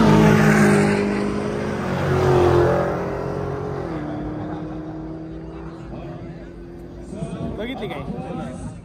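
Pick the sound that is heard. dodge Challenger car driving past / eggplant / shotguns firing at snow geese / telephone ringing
dodge Challenger car driving past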